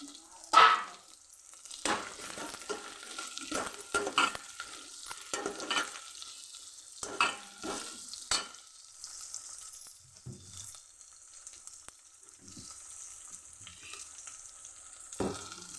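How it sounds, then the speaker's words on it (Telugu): Tempering spices hit hot oil in a pan for a bamboo shoot curry, crackling and spluttering loudly with sharp pops early on, then settling into a steadier, quieter sizzle. "ఇప్పుడు పోపులు అన్నీ కలిపి"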